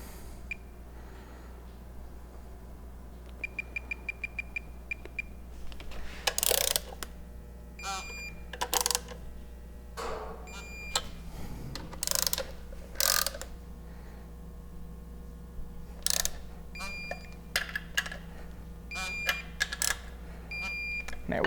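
Torque wrench clicking as bolts are tightened during a Toyota 4.7 V8 timing belt job in a garage, with a series of sharp, separate clicks and ratchet sounds at irregular intervals across the span, close and fairly loud.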